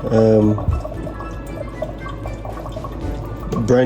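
Water pouring and bubbling from a Kangen water 9.5 filter machine with a brand-new filter, a close, steady liquid stream under a voice talking throughout.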